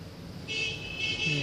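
A car horn honks faintly in the background over low traffic noise, with a thin sustained tone coming in partway through.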